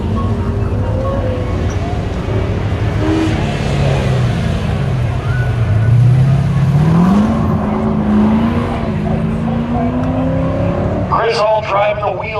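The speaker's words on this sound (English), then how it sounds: "Driving the wheels off this 68 Firebird." 1968 Pontiac Firebird driven hard on an autocross course, its engine loud and near, revving up and down with rising and falling pitch through the turns, with a voice commentating over it.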